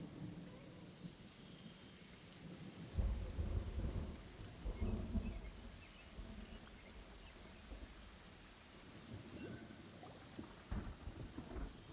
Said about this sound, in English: Do I hear rain?